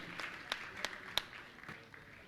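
An audience at a Jain religious ceremony with Praman Sagar Ji Maharaj claps to honour a family. The applause is faint and scattered, with a few distinct sharp claps over soft background murmur.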